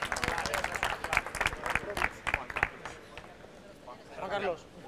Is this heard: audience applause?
yes